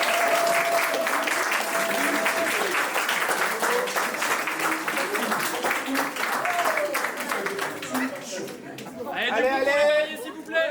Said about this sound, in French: On peut encore applaudir s'il vous plaît.